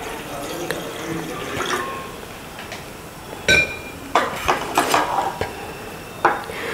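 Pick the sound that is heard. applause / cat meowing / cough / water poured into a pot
water poured into a pot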